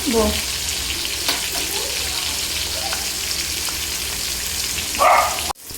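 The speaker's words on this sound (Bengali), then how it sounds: "সব মাছগুলো দিয়ে দিয়েছি আর এগুলো আমি একইভাবে ভেজে" Rohu fish pieces fry in hot oil in a pan, giving a steady close sizzle with brief clatters and a louder burst of spattering near the end.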